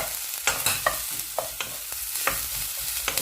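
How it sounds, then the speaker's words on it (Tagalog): Boiled pork belly sautéing in a pan, crackling sizzle punctuated by quick spatula scrapes and stirring knocks, close by with no voices. "Igisa na natin."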